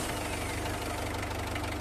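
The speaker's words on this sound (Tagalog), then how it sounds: "tsaka ko start itong makina" Mitsubishi L300 engine after an oil change and flushing, running in a steady low idle with a rapid even knocking pulse, close and continuous, no voices.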